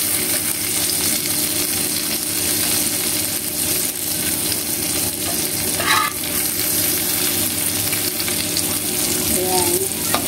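Chicken gizzards and hearts sizzle and fry steadily in a pan, with a few soft scraping stirs and light clinks of a utensil against the metal, close and continuous with no talking.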